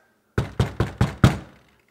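Five quick, firm knocks land on a back door in an even rhythm, close and loud, then fall into silence.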